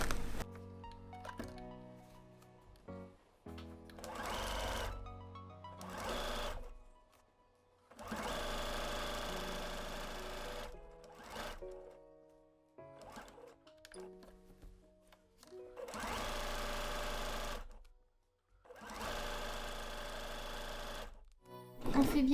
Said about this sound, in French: on vient maintenant coudre au point droit tout le tour